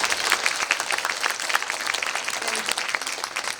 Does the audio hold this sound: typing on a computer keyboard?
no